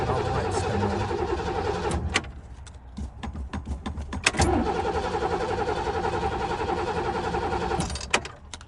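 A 1967 Lincoln engine cranks and churns in rough bursts, stumbles through a brief pause and a few sharp clatters, then catches and runs unevenly at a close, steady rumble.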